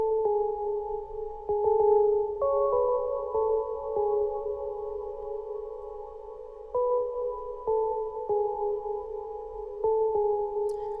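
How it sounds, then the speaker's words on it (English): Synth keys from the Hive software synthesizer filling the background of a West Coast wavy beat, with sustained mellow chords changing every second or two under a faint low pulse, and no voices. "I got these keys out of Hive."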